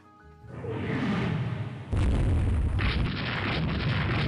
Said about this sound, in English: She just let rip with her massive 20-inch rifles.